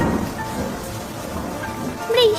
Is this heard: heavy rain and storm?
yes